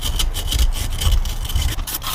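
Stiff brushes scrub rapidly back and forth inside a Jeep Wrangler TJ brake caliper housing during a rebuild, producing loud, close, rhythmic rasping strokes with no talk.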